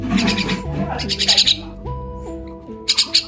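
Three small pet birds calling indoors with short chirps and squawks in bursts, close by, over a faint background tone.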